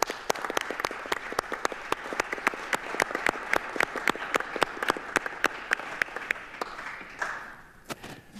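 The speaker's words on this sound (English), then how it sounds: "I'd like to give her a round of applause" An audience at a missile defense budget hearing claps steadily, a dense run of sharp individual claps that thins out and fades near the end.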